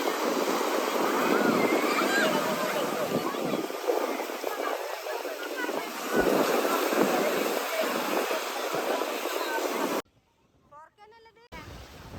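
Sea waves wash and surge in a continuous roar with wind buffeting the microphone and voices mixed in, ending abruptly in quiet.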